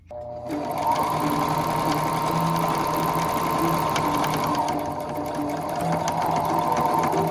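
Close and loud, a sewing machine stitches a seam in one continuous rapid mechanical whir, with a brief dip in pace near the middle before it picks up again; no talking.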